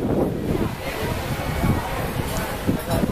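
Ocean surf rolls steadily along the shore at Balneário Camboriú, a continuous broadband wash of waves mixed with gusty wind buffeting the microphone, with a few louder swells rising through.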